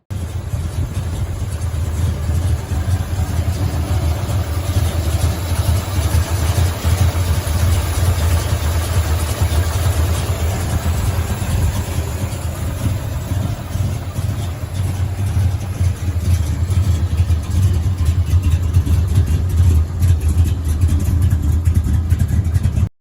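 A 1963 Dodge 440 two-door hardtop with a 4-speed runs steadily with a deep, rumbling idle, loud and close, holding an even drone throughout with faint variations in revs.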